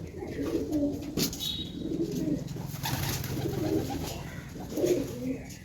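Metraj pigeons in a mini zoo coop coo in soft, repeated, throaty rolling phrases, several overlapping calls close by in a steady rhythm over low background noise.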